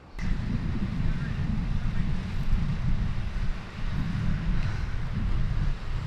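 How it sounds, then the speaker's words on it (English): Strong wind buffets an outdoor Pride vendor event in Sacramento, a constant loud low rumble of gusts battering the microphone throughout. "It is windy as hell."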